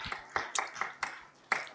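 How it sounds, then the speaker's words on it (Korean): Church congregation applauding at a Sunday worship service, a sparse, quiet patter of scattered claps from a few hands rather than a full ovation. "우리 박수로 축복합니다"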